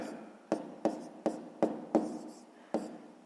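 Handwriting numbers for a 6th-grade maths exercise, six short scratchy pen strokes at a fairly even pace, close and quiet, with no speech over them.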